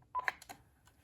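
Quick telephone keypad tones from an early-'90s desk phone, a few short electronic beeps pressed in rapid succession, close and clear with no talking.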